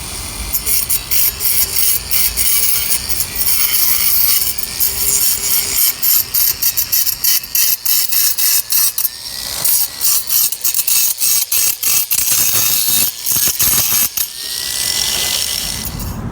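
A grinder grinds down concrete curb residue outdoors, giving a loud, continuous harsh abrasive rasp that pulses and stutters as the tool moves along the edge, close up with no talking.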